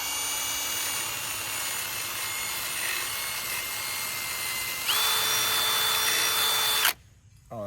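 A power sander works steadily on Mustang Dark Horse parts, a loud, high whirring drone that rises in pitch and intensity partway through, then cuts off abruptly near the end.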